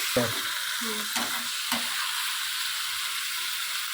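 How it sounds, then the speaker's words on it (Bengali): Onion is stir-fried in a pan for a country chicken curry, a constant bright sizzle with three clear scraping stirs early on, then steady frying alone, close and fairly loud. "ভালো করে নেড়ে চেড়ে পেঁয়াজটা আমি কষিয়ে নেব"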